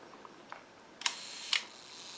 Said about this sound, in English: Extremely quiet shutter.